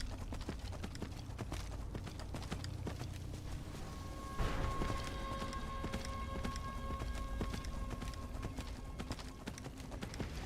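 A summonable horse from a Vampire Lord video game gallops in a fast, steady clip-clop of hooves that runs throughout, over a rain-like hiss, with a brief louder burst midway.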